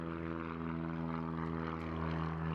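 A Citabria 7KCAB two-seat aerobatic plane's engine and propeller drone steadily with a strong low hum, moderately loud and unbroken.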